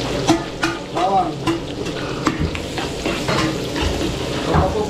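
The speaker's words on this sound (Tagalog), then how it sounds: "So papupulayin muna natin yung bawang, sibuyas, luya natin." Garlic, onion and ginger sauté in a pan with a soft continuous sizzle and repeated scraping clicks of a spatula stirring, close and moderately loud.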